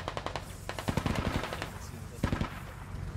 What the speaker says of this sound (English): Just suppressing fire.